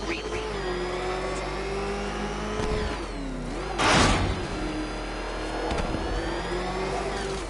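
The Batmobile's engine in the video game Batman Arkham Knight, a loud, sustained mid-pitched roar that rises and falls, with a brief harsh burst partway through and game sounds around it.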